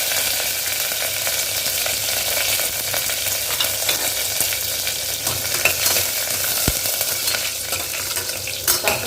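Garlic, fenugreek and curry leaves sauté steadily in a single pot for a wedding-style vatha kuzhambu, a continuous close, bright sizzle with occasional stirring clatter and no talking.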